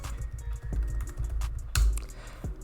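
Admin password typed on a computer keyboard: a short burst of quick, soft key clicks in an uneven rhythm, close by, with one firmer tap near the end, no voices.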